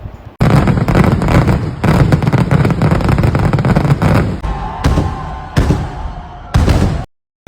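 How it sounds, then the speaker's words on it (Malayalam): Paramekkavu's fireworks display at the Thrissur Pooram festival, a loud, dense barrage of rapid cracking bursts that thins into a few separate booms before stopping abruptly. "ഒരു 8:30 പാറമേക്കാവിൻ്റെ വെടിക്കെട്ട് സ്റ്റാർട്ട് ചെയ്തേ"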